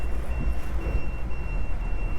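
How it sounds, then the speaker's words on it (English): A bilge pump alarm on a Duchy Sport wakesurfing boat beeps thin and high in long steady tones over a low, constant rumbling hum. "just a tiny little bit of water down there, which has just triggered the bilge pump alarm"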